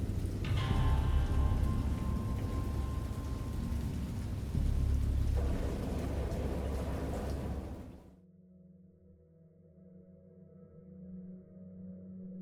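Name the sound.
thunder and storm in a video game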